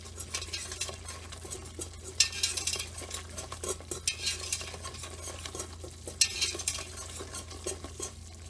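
A whisk scrapes and taps rhythmically in a pot as Old Bay seasoning and cayenne pepper are worked into aromatics for a wood-fired seafood bisque, with soft sizzling beneath the steady metallic stirring.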